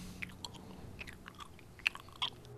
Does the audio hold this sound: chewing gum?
yes